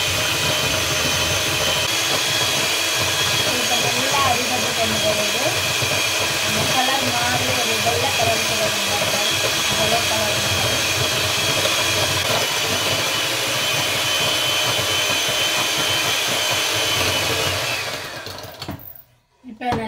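An electric mixer whirs steadily, beating sugar for a Sri Lankan dates cake, a loud continuous hiss-like drone that runs for most of the clip before cutting off abruptly near the end.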